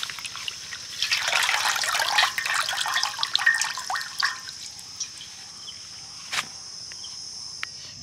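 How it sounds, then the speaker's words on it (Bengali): Washed pumpkin leaves lifted out of a bowl of water, a close burst of trickling and dripping for a few seconds that tapers into sparse drips, with a faint cricket-like hum behind. "এবার আমি পাতাগুলো তুলে নেব জল থেকে"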